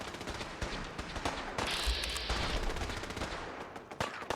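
Automatic turret gunfire in the Fallout 4 video game, dense rapid bursts of shots and impacts running continuously across the whole stretch, loud and close, with no talk.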